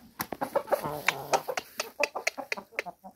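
Aseel roosters clucking and crowing in short bursts, close by on a free-range farm, mixed with a voice talking over them.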